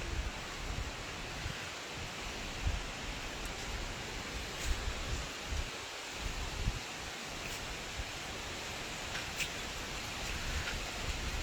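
Steady gusting wind roars outdoors on a stormy early morning before rain, a broad continuous rush with occasional louder gusts and rustling, no voices.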